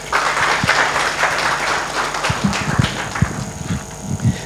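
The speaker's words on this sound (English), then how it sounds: "Another round of applause for Tony, please." An audience at a conference event applauds with dense, steady clapping that thins out toward the end, leaving a few scattered claps.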